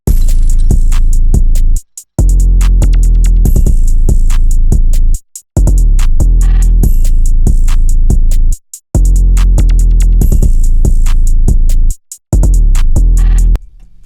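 Hard-hitting hip-hop drum loop for an Opium-type beat built in FL Studio from a deconstructed kit: booming sub-heavy kicks under rapid, crisp hi-hat rolls, looping with brief full dropouts, loud and alone without talk.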